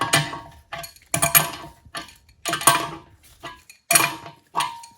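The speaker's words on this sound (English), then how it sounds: "grab our adjustable wrench, and I'm going to turn 5 times on the nut" An adjustable wrench works a nut on a toilet floor bolt, giving a run of sharp metallic clinks and ratcheting clicks in uneven bursts with short pauses, close and fairly loud.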